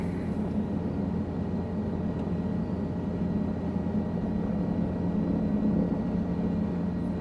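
A Guimbal Cabri G2 helicopter in Microsoft Flight Simulator 2020 drones steadily as it tries to take off in gusty, terrible conditions. The low engine and rotor hum stays even and unbroken, with no talking.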